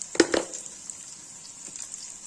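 Onions frying in a pan, about to receive red chili and turmeric, give a steady, fairly faint sizzle, opened by two quick utensil clanks against the pan and a softer scrape later.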